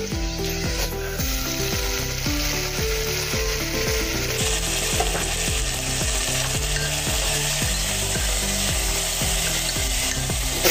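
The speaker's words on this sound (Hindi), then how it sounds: "मीडियम गैस पर ही इसको तेल में अभी भून लेंगे अच्छे से" Vegetables fry in oil in a pan over a medium gas flame, giving a loud, dense, continuous sizzle, with a steady rhythmic pattern of stirring or scraping running underneath throughout.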